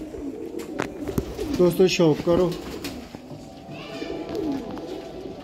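Pigeons coo repeatedly at a pigeon seller's loft, their soft rolling calls overlapping close by. Someone talks in Hindi-Punjabi over them.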